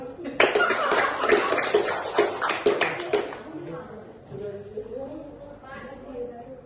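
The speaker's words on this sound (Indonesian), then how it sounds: "Tepuk tangan." Classmates in a classroom break into a short, loud burst of hand clapping lasting a few seconds, then it fades and people talk.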